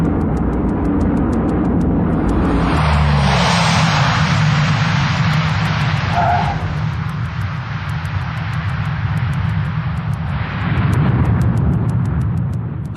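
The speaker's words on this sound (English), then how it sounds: "The bulk of a Hercules brought to a halt in about 750 meters" A Hercules propeller aircraft makes a tactical landing, a loud, steady broadband engine and propeller roar that swells and holds for the whole stretch with no talk.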